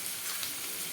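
Curry leaves dropped into hot oil give a steady, dense hiss of sizzling frying, close up and alone.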